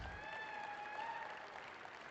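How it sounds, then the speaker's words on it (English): Crowd in the show ring applauding exhibitors after the champion junior market goat drive at a national livestock show, a steady wash of clapping with faint tonal whistles or voices drifting above it. "put your hands together, give these exhibitors a big round of applause"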